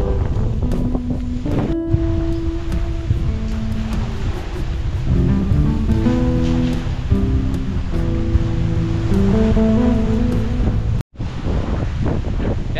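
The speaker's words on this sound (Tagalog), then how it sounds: "Lumalakas ng alon, no?" Ocean waves surge and crash while wind buffets the microphone, with faint tonal sounds drifting underneath.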